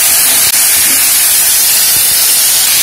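Loud, steady hissing sizzle of spice paste loosened with a little water and sautéed in a pan. The hiss sounds close and continuous, with one brief scrape near the start.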